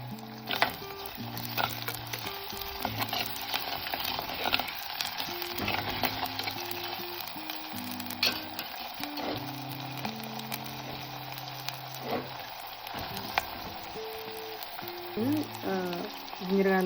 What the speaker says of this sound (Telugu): జింజర్ గార్లిక్ ఫ్రై అవుతుంది.